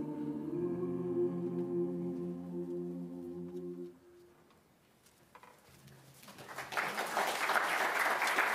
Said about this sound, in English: Another round of applause for all of our soloists so far in this evening